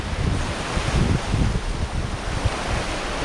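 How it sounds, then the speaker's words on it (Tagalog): Rough sea waves off the coast of Palawan surge and wash continuously, a loud broadband roar with wind buffeting the microphone throughout and no voices. "Grabe yung alon kasi oh."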